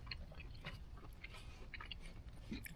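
Someone chews a mouthful of cooked steak close to the mic, soft wet bites and mastication sounds repeating over a quiet hiss, with no talking.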